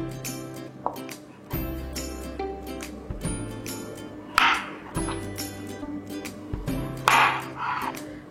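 A knife slices cooked potatoes into rounds for a potato gratin, producing sharp, separate cuts and clinks against the board at irregular intervals, close and distinct, with no one talking.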